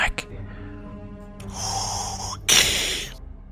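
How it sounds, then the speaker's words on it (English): Heavy breathing blown close into a headset microphone during an online tabletop role-playing game, a few loud rushy exhalations and snorts in quick succession over a faint hum, with the last burst the loudest. "we can hear you clearly breathing in your mic"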